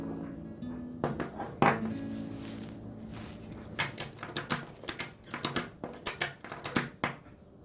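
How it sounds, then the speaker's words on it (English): A ratchet strap being cranked tight gives a run of sharp, evenly spaced mechanical clicks, close and loud, after a few scattered knocks and clunks at the start. "then ratchet the strap tight."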